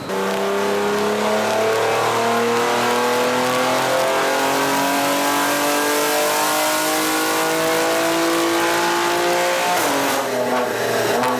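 A BMW G87 M2 sports car engine with a Stage 2 tune, about 710 bhp, revs hard and steadily under load on a dyno, pitch climbing smoothly for several seconds, then drops off sharply near the end; loud and close.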